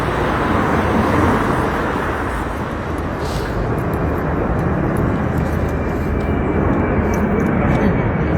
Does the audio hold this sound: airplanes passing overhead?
yes